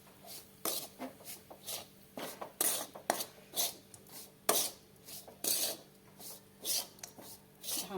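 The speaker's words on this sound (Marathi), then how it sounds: "आणि आता हे छान मिश्रण एकजीव करायचंय" A spoon scrapes and mixes crushed peanut powder into a mhadya mixture in a bowl, producing rhythmic rasping strokes about once a second, close and fairly soft with no talking.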